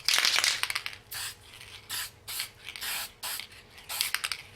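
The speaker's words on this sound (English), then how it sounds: "I'll put several coats of clear on this" Several short bursts of aerosol clear coat are sprayed onto a 1/350 scale Polar Lights Enterprise model: about six hissing puffs, close by and fairly quiet, separated by brief pauses, with faint clicking between them.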